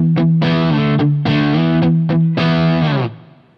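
Electric guitar through a DSM Humboldt Silver Linings drive/preamp pedal with the bass control turned up, played as a run of thick, distorted, bass-heavy chord stabs and riffs, loud and close, ending with a ringing decay.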